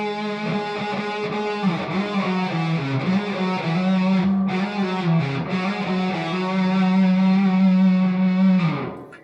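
An electric guitar plays a singing, sustained lick from a song twice in a row, with smooth slides and hammered-on notes, loud and alone for about nine seconds.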